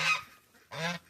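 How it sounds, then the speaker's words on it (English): Geese and ducks on a homestead give two loud, close honks, each about a fifth of a second long, with a short gap between them. "you can hear the ducks and the geese in the background here"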